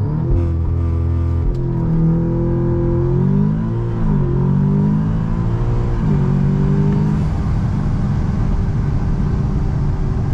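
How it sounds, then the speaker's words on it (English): Big-turbo Audi S3 launching under launch control: a loud, close engine roar climbs through revs with several quick gear-change dips as the car accelerates hard, no voices. "when you let go off the brake, it's going to launch."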